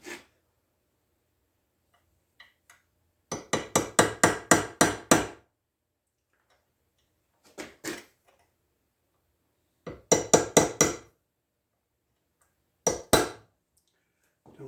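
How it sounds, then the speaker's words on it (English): Small chisel struck into a gap on a broken shell mill, bursts of rapid sharp metallic taps in clusters of four to six, separated by quiet pauses, close and crisp. "I'm going to see if I've got a small chisel that I can get behind that."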